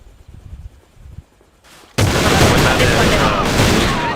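A grenade blast with gunfire in the online shooter A.V.A lands as a sudden loud burst after a quiet stretch of faint sounds. It is followed by a dense, sustained roar of shots and rumble.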